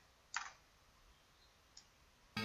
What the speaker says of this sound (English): I'm going to double click on this plane.